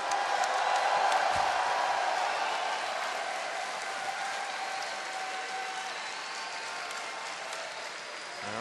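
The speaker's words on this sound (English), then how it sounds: "Go ahead and cheer as loud as you possibly can for us before we get this game started" An esports arena crowd at a StarCraft 2 grand final roars with applause and cheering, loudest at the start and then holding as a dense, sustained wash of clapping and shouts.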